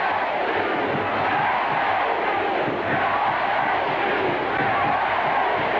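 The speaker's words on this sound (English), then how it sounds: "You can hear the fans chanting FSU." A large football crowd at Doak Campbell Stadium during a 1983 Miami at Florida State game, a dense, steady roar of fans chanting FSU, continuous and loud throughout.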